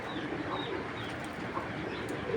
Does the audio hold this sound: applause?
no